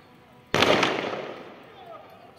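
A single loud gunshot rings out during an armed robbery in Sassari, a sharp blast with a long reverberating decay, heard outdoors at a moderate distance.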